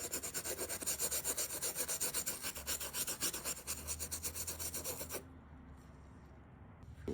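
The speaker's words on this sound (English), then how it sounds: "I will get my white brush and then I would scrub that mesh" Brush scrubbing the wet mesh of an Air Jordan 11 sneaker with quick, rhythmic back-and-forth strokes, close and steady, then stopping abruptly toward the end and leaving a quieter hiss.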